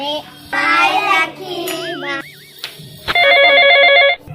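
A phone rings with a bright electronic ringtone in a repeating pattern that plays loud for about a second, after a stretch of voices and assorted household sounds.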